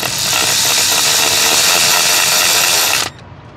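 A power tool tightens a 10-millimeter bolt on a plastic cover of an L5P truck engine, whirring loud and continuous for about three seconds before stopping abruptly.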